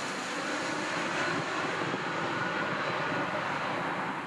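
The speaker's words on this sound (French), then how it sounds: "leur avion se pose en Allemagne" A passenger airplane landing in Germany, about forty kilometres from Frankfurt, with a steady, loud, broadband engine roar and rushing air that holds even and continuous throughout.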